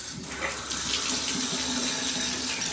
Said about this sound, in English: So yeah, let the water run for a second